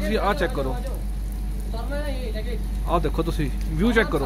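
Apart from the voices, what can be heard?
heavy rain falling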